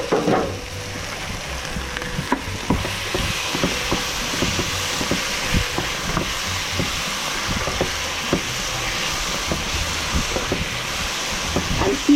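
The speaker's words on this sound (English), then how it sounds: "So now I'm adding in my pork strips." Pork strips dropped into a hot pan give off a steady, loud sizzle and crackle with frequent small pops and scraping clatter, continuing throughout.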